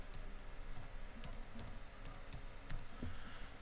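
Typing on a computer keyboard, a quiet, close run of irregular key clicks at a steady working pace, alone without talk.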